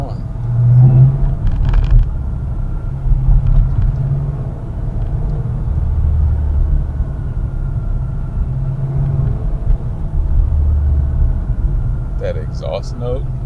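A C8 Corvette rumbles on a night drive, its deep, steady exhaust note heard from inside the cabin with slight swells in loudness throughout.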